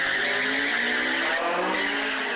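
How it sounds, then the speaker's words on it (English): A lowered Honda Integra drag car with modified intake, headers and exhaust launches hard from the lights, its tyres squealing loudly over a rising, straining engine note throughout. "The Integra pulls out hard from the lights."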